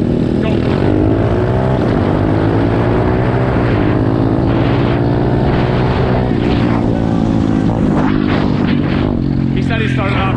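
A pit bike engine revs hard in second gear during a dirt race, a loud, close, continuous drone rising and falling in pitch with the throttle.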